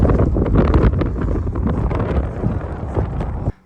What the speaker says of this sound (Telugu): కానీ విండ్ మాత్రం ఎంత భయంకరంగా ఉందో అసలు